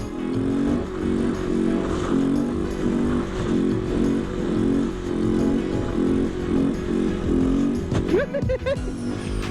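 Kawasaki Z125 motorcycle riding uphill through snow and lifting into a wheelie, its small engine droning steadily and loudly up close with rhythmic pulsing revs, then wavering near the end.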